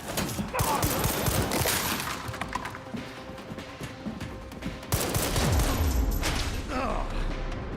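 Gunfire in the Resident Evil Requiem video game, heard as dense overlapping bursts of shots and thuds across the whole stretch, loud and close, with a busy game soundscape underneath.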